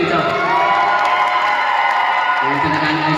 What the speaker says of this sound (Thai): ขอเสียงปรบมืออีกทีหนึงเจ้า